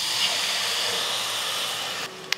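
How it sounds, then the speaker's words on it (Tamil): Tamarind water poured into fried masala in a pan for a Tamil fish curry sets off a loud, steady sizzle and hiss, which cuts off abruptly near the end. "இதில் நம்ம புளி கரைச்சி வச்சுருந்தோம் இல்லையா அந்த தண்ணியை சேர்த்துடலாம்."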